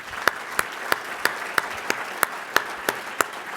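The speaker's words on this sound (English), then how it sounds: "Here's a round of applause for Alan." At a dining-in-the-dark dinner event, hands clap in a sparse, even rhythm of about three sharp claps per second, moderately close and steady throughout.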